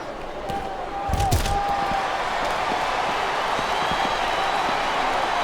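Capacity arena crowd noise from the WWE SmackDown vs. Raw 2007 video game, a steady roaring wash of cheering with a brief swell and some thumping early on, continuous throughout.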